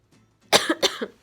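Two harsh coughs in quick succession, close and fairly loud, with no talking.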